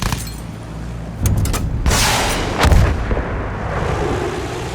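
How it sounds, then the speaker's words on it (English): Rockets fired at ground targets in Battlefield 1 go off as several sharp, loud booming blasts close together, with crackling bursts between them and a rumbling roar rolling beneath. "Try using the rockets on them. Get a feel for hitting the ground targets."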